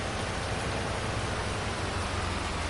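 Steady rain in Farming Simulator 19 on PS5, a dense, even hiss of falling drops that stays constant throughout with no voices.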